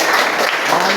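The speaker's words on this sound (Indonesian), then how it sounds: "Oke, tepuk tangan." Children in a classroom clap their hands together in a loud, dense burst of applause filling the whole brief moment.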